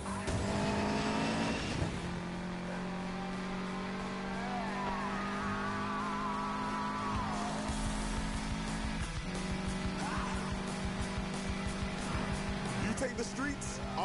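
Cars racing toward an airfield in a video game, a sustained engine roar with revving and tire squeal throughout, loud and continuous, with voices talking over it.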